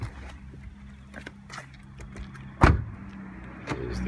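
A Holden Astra RS-V MY17 door shutting after someone climbs out, a single solid thud midway through, preceded by quiet rustling and followed by a softer knock.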